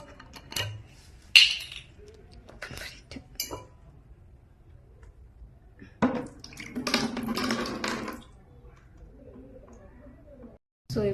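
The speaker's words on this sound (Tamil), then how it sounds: "பாட்டில் ஓப்பன் பண்ணுவோம்" A bottle is opened and its liquid poured out in a short, splashy rush, with a few clinks and light handling noises before it and quiet gaps between.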